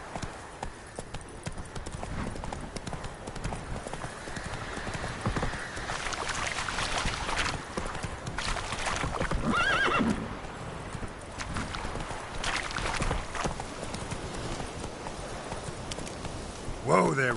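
Roach, the Witcher's horse, trots with steady clip-clop hoofbeats through the whole stretch and gives a brief whinny near the middle, while a voice calls to the horse over the hooves.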